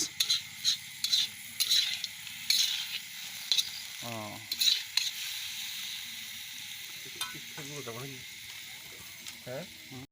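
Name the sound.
meat frying in oil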